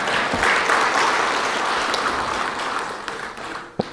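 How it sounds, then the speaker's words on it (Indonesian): An audience applauds at a presidential address, a loud continuous burst of many hands clapping that gradually thins and fades, ending with a sharp thump. "Tepuk tangan dulu lah."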